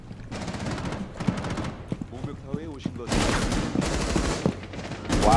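Bursts of automatic gunfire from the tactical shooter game Rainbow Six Siege crackle in loud, dense volleys, with a heavier stretch near the end, while players talk over the shooting throughout.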